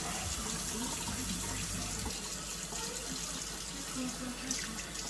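Water from a kitchen sink faucet runs in a steady, close rushing stream over a cutting board being rinsed. Faint clatter sits under the continuous flow.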